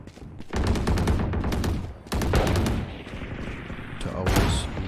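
Rapid bursts of gunfire from the shooter game Valorant rattle out in two loud, close volleys separated by a short pause, followed by a noisier tail with scattered impacts.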